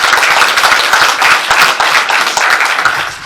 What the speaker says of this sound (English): let's give our boss man a round of applause